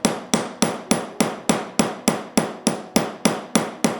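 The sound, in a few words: hammering solid silver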